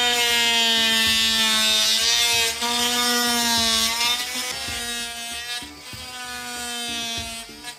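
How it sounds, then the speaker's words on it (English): Sonicrafter oscillating multi-tool plunge cutting through drywall with the same blade that just sheared a steel nail. It gives a loud, steady, high-pitched buzz whose tone wavers a little as the blade sinks in, and no one speaks. "I'll also use this same blade to plunge cut right through this drywall"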